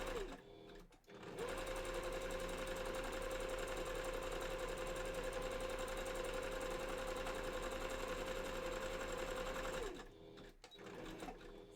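A sewing machine stitches fabric for fursuit bandannas, a steady close motor whir running for about nine seconds, starting and stopping abruptly with short quiet gaps and brief revving at either end.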